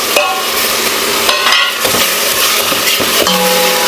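Chopped tomatoes fry in hot oil with mustard seeds, onion, green chilli and dried chilli, making a loud close sizzle broken by a spoon's clinks and scrapes against the pan, with no one talking.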